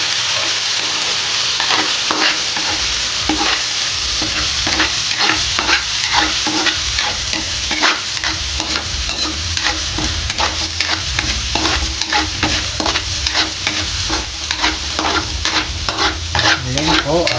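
Chorizo sizzling in a frying pan while being stirred, steady close frying hiss broken by repeated scraping strokes of the utensil, no speech.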